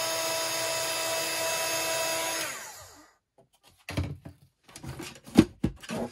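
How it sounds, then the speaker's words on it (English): A heat gun blows a loud, steady whine while melting embossing powder on a stamped image, then shuts off and spins down around the three-second mark. A few close handling knocks and rustles follow. "we're just going to move that heat gun over the image"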